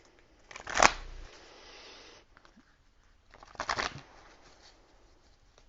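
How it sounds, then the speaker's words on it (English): Tarot cards are shuffled in two quick riffling bursts, a sharp one followed by a longer flurry, close up with quiet pauses between and no talking. "Let me just pull an energy card for you too."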